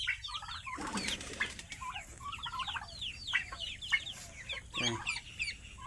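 Chickens clucking in a yard shared with ducks, a busy close chorus of short overlapping clucks and calls, with a brief burst of flapping wings near the start.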